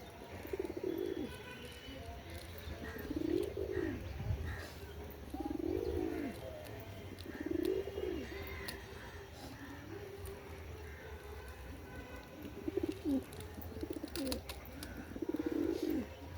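Rhythmic cooing from a flock of pet pigeons comes in regular bursts every couple of seconds, near and moderately loud over low background hum, with a few faint chirps between calls.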